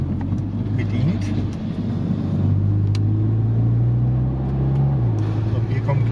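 A tuned 450 hp Seat Leon with a 2.0 TFSI engine drives with a loud, rumbling engine note that climbs and falls with gear changes, while people talk inside the car.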